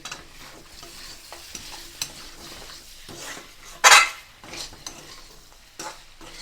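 Goat meat with sugar stirred in a pot over a lit stove: soft, steady scraping and light clinks throughout, with one brief louder metallic scrape near the middle and faint sizzling underneath.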